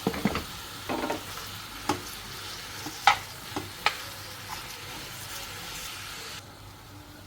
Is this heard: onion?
yes